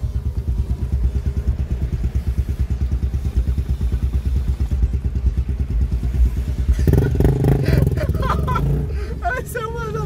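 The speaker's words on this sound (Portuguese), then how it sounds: "tem um cara de moto aqui do nosso lado" A motorcycle rides close alongside a car, heard from inside the car as a loud, rapidly pulsing engine putter that gives way to clattering, shifting noise and background voices partway through.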